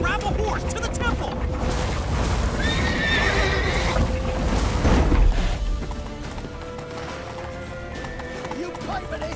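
Clip-clopping hooves and a loud horse whinny in The Witcher 3: Wild Hunt, up close during a hurried escape, with game music and voices in the background.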